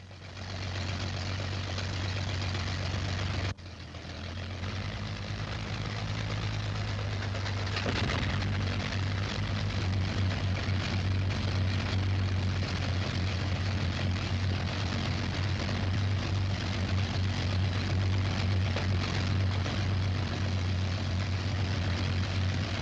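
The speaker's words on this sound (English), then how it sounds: "Engines throb and leap to life." Propeller engines of a heavily loaded bomber aircraft starting up, a steady low throb that swells after a few seconds into a loud, continuous roar as more engines leap to life, with no talk.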